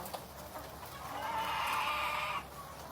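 A flock of laying hens about 80 weeks old clucking and murmuring together, a dense chorus of bird calls that swells and then drops off abruptly.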